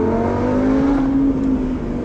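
A Lamborghini Huracan engine droning loudly with a steady, slightly rising tone, then easing off near the end, heard up close from inside or beside the car.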